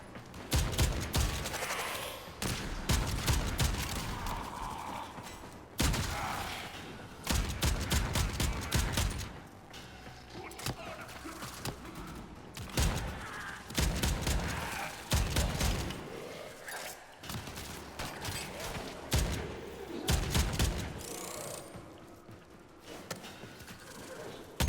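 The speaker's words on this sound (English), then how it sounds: "They're already shooting at me." Bursts of video game gunfire crackle in irregular clusters during an excavation mission, loud volleys separated by short lulls.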